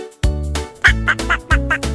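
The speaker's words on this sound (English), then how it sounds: "Out pops a little red duck so keen." Cartoon duck quacks from a children's animated nursery rhyme about a little red duck, a run of bright, nasal quacks in quick succession, loud and close with no talk.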